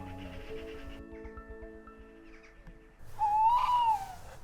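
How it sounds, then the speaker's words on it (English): An owl perched in a tree directly overhead at a derelict coal mine gives a single clear, fairly loud hoot near the end, after a stretch of quiet, hum-filled outdoor background. "An owl has just flown over and landed literally right in the tree above us."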